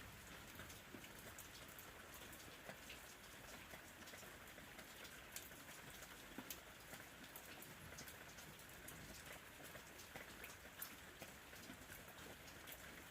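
Steady rain falls with an even, soft patter and scattered drop ticks, quiet and continuous, with a faint coo of a dove or pigeon far off.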